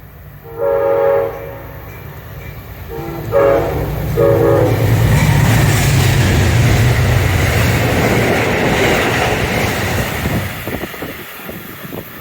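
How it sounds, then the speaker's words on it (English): An Amtrak passenger train on the Empire Corridor at New Hamburg sounds two loud horn blasts and then roars past close by, its rumble building and then slowly fading. "This is another Amtrak train."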